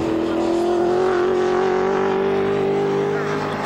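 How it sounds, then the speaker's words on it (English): Race car engine at the 1993 Sandown 500, a loud sustained engine note with steady pitch and slight drift rather than clear shift breaks, with a commentator talking over it. "Listen to the gear change on those dog boxes"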